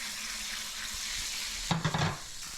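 Roasted garlic and shallots bubble and sizzle in a pan, a steady soft frying hiss with a brief burst of louder crackling near the end.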